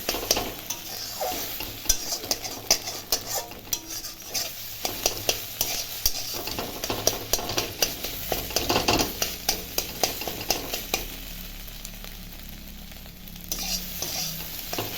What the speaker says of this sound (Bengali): ডিম তিনটা নিয়েছি এখন কড়াই ভেজে নেব ভুজিয়ার মতো করবো